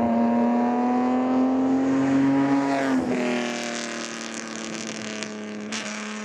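A 1957 Ferrari 625/250 TRC race car's engine sings a steady high-pitched note, then drops as it shifts, quieter and more distant with a brief rev near the end.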